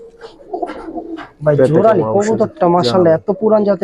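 Giribaz pigeons coo in a loft, soft rolling calls rising and falling in a few close bursts, with someone talking over them.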